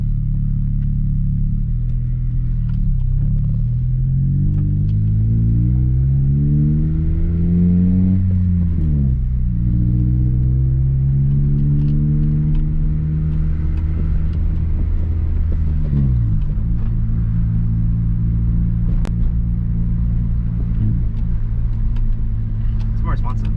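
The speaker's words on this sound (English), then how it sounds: "we're gonna take it for a test drive for the first time" An Acura RSX fitted with new Energy Suspension bushings is heard from inside on a road test drive. The engine drones loudly and rises and falls in pitch as it revs and shifts, with low road rumble and voices talking over it.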